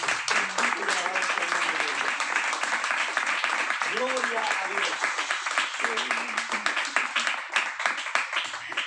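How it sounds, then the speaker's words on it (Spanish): A crowd claps steadily in sustained applause, with a voice speaking over the clapping. "Denle un aplauso."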